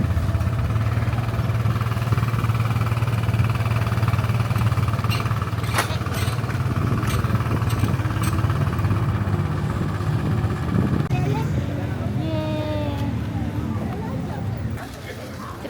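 Motorcycle ride through town toward Bandar Baru Uda, a steady loud engine drone and road rumble running throughout, with people talking over it and a few sharp rattles along the way.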